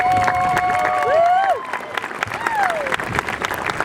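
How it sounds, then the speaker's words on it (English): Graduation audience applauds the parents at a 2016 high school ceremony, steady clapping from a crowd with scattered cheers and a few whistle-like tones over it, filling the room for several seconds. "I think we all applaud our parents"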